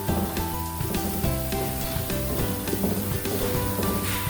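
Shallots deep-frying in hot oil, a loud, steady, dense sizzle and crackle that fills the whole stretch without pause, close up and with no voices.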